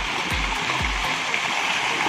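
River water splashes and gurgles steadily as someone rinses off in a river, a continuous close wash with a couple of low thumps early on.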